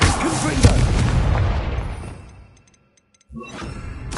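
A Confringo blasting spell in Hogwarts Legacy erupts in a loud booming explosion with shattering debris, fading into near silence before another burst of game sound returns near the end.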